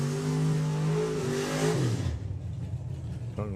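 At a drag racing meet, Mark Turner's Toyota Supra drag car holds a loud, high engine rev that climbs, then drops sharply and falls away, leaving a rumbling idle before a brief rising whine near the end.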